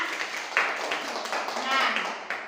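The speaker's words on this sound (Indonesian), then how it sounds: "Tepuk tangan buat kelompok bertelur." A class of schoolchildren gives a short burst of brisk, close clapping for a winning student group, with voices mixed into the applause.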